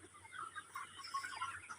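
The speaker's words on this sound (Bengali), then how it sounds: "সোনালী মুরগি আমার দিকে" A golden hen clucks softly nearby, a faint run of short, uneven calls with no talking over it.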